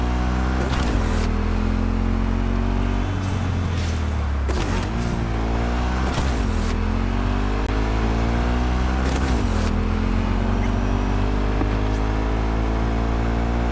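Car in Cyberpunk 2077 driving on after landing from a jump, engine droning steadily and rising through gear shifts, with sharp thumps and clatter from bumps and landings.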